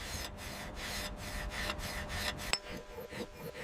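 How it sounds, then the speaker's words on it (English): Sand rubs and abrades the face of a gold bar in rhythmic back-and-forth strokes, a close scratchy rasp with a sharp click partway through before the strokes continue more softly. "Sand abrades the bar face."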